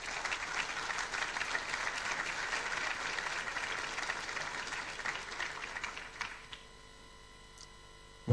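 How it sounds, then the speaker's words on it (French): Conference audience applauding the event's sponsors, a steady dense crowd clapping for about six seconds before fading out into a quiet room hum. "Donc je propose qu'on les applaudisse parce que vraiment c'est important."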